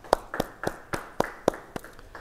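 Scattered hand claps from a church congregation at a Bible study, about seven sharp claps spaced evenly in a slow rhythm, moderately near and without talk.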